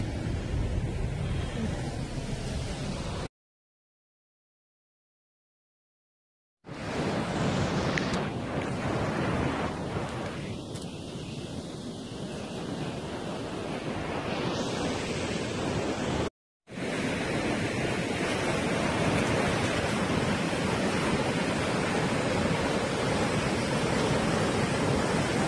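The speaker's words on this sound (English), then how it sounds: "The ocean." Ocean waves break at Half Moon Bay in a dense roar of surf with heavy wind buffeting the microphone, broken by two brief silent gaps.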